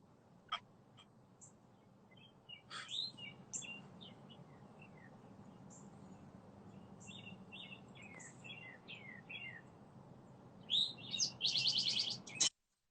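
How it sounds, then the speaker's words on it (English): Several birds chirp and tweet outdoors against a quiet background, with scattered calls throughout and a denser burst of chirping near the end. "it's a lot of birds, yo. I'm outside."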